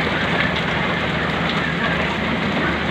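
Heavy rain falls steadily during a stranding on a landslide-hit highway near Pagadian, a loud, dense wash of hiss that continues without a break.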